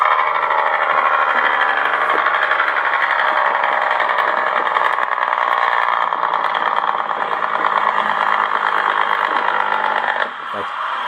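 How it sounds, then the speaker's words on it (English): A Beier SFR-1 sound module in a 1/14 Tamiya Grand Hauler RC truck plays a continuous Jake brake sound, a loud, steady, buzzy engine-braking rattle that holds for about ten seconds before cutting off. "That's our Jake brake sound."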